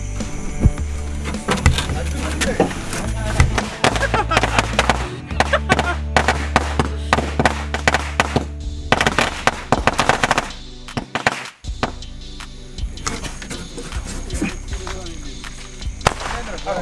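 Diwali firecrackers, including Lakshmi bombs, burst in a fast crackling barrage at a night cracker-testing session, dense sharp bangs running for most of the stretch with a brief lull near the end before more pops resume, voices faint underneath.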